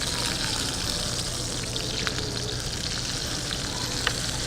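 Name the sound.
salmon frying in a pan for crispy skin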